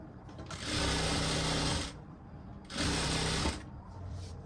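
A sewing machine stitches a belted princess-cut blouse in two loud, steady bursts of rapid mechanical whirring, with a short pause between them.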